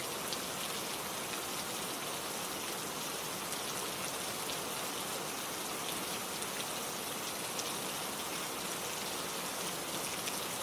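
Steady rain falls evenly and continuously, a dense, unbroken hiss of drops with no voices or other sounds over it.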